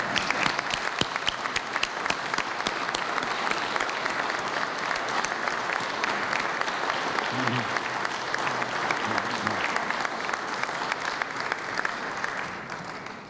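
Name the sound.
audience standing and applauding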